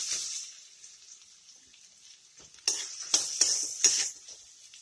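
Potatoes go into a hot pan of ginger and chili tempering, starting with a steady sizzle, then louder crackling bursts as they are stirred and scraped around, close and without talk.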